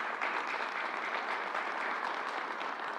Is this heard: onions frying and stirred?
no